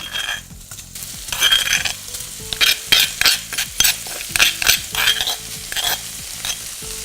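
Chili paste is stirred straight into a pan with no oil for a crab curry, giving a close, steady sizzle broken by repeated scraping strokes of a spoon or spatula against the pan.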